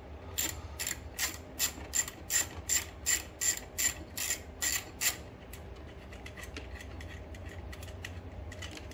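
A hand ratchet backing bolts off a Generac RS8000E portable generator, a quick run of about ten sharp, evenly spaced clicking bursts up close, then stopping into quiet room hum, no talk.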